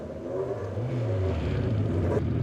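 A quick single-seater race car's engine roars loud and close at a hill climb, a sustained mechanical drone that rises in pitch as it revs, steady throughout with no voices.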